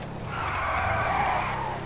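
Car tyres skid and squeal under wheel lock-up in Grand Theft Auto 5, a sustained screech lasting nearly two seconds over the car's engine drone.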